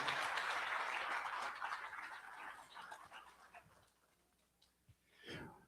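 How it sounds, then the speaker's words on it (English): A burst of applause from a crowd at a hall of fame induction ceremony that gradually fades out, followed by a few scattered sounds in the quiet. "Big round of applause for Ashley James."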